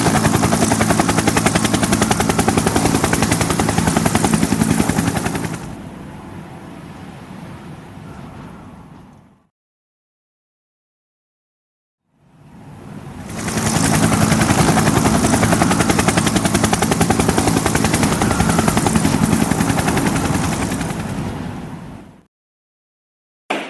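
Police helicopter flying overhead, a loud steady rotor roar in two long passes separated by a few seconds of silence, with no talk over it.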